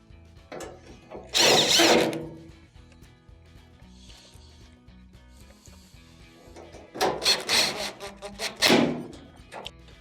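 A power drill drives screws into a Maytag dryer during an idler assembly repair, two loud bursts of whirring with a quieter gap of clicks and handling noise between them.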